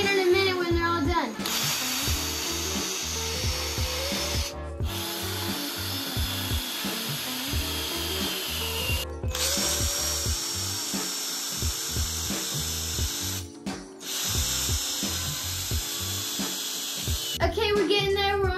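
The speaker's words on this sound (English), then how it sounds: "we're just gonna drill it on through" A power drill bores slowly through a stack of golf balls threaded together for a homemade BMX wheel, a steady close grinding drone broken by short pauses where the drill stops and restarts, with a faint rhythmic ratcheting underneath.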